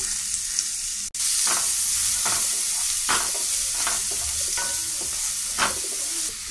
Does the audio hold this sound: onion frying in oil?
yes